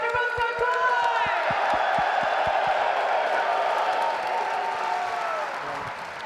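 A large arena crowd at a Call of Duty League championship in Birmingham cheers and applauds loudly and continuously, with whoops rising over the roar and rhythmic low thumps at the start.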